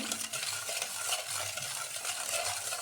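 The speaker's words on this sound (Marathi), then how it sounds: "चवीनुसार मीठ टाकू. ते पण मिक्स करून घेऊ." Salt being stirred into besan dhokla batter in a bowl, a steady soft scraping and swishing that runs continuously and close up with no talking.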